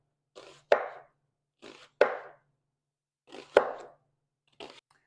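Knife slicing almost all the way through an onion half on a cutting board, four separate crisp cuts, each a soft crunch ending in a sharp tap of the blade on the board, spaced with quiet gaps.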